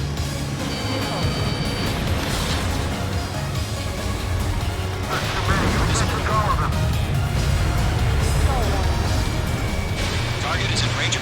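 Enemy gunfire from the far shore during an Ace Combat 7 air mission, rumbling blasts and crashes over continuous jet engine noise, with radio voices talking over it.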